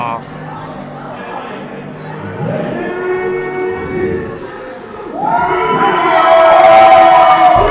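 A pro wrestling crowd at Kumeū cheering and roaring in reception, building from a mixed murmur of voices to a loud sustained shout toward the end, with an announcer talking over it.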